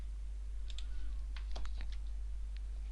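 Someone types code on a computer keyboard: a quick, irregular run of light key clicks, close and fairly soft over a steady low hum, with no one talking.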